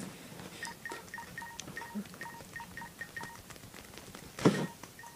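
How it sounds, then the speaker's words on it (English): Phone keypad buttons pressed one after another in an uneven, quick rhythm, each producing a short two-tone beep, with a louder burst of noise near the end and no talking. "You're just pushing in buttons into your phone."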